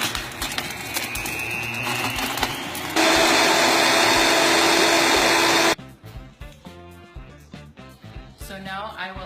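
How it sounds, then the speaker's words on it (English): A kitchen blender purees limestone with beef broth for Achu soup, a loud steady whirring roar that runs for about three seconds amid kitchen sounds, then cuts off before clattering and handling noises. "So now I put your limestone into the blender"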